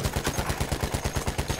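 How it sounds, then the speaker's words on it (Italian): Gunfire from Battlefield 1 rattles off in steady, evenly spaced shots, about a dozen sharp cracks over under two seconds, loud and close with a heavy low thump on each round and no talking over it. "Devo sparare a raffiche controllate."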